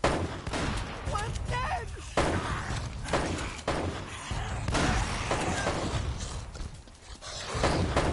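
Shotgun fire in the video game Uncharted: Drake's Fortune, heavy booming blasts at irregular intervals amid thuds and impacts, with voices talking and exclaiming over the shooting.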